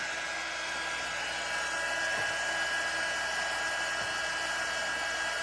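A hair dryer blowing on freshly painted wood of a bunny shelf, a steady, loud whirring hiss with a constant whine that runs unchanged throughout, with no talk.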